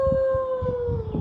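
A child imitates a wolf howling at the moon, a single sustained rising-and-falling howl sung close, with faint thumps underneath.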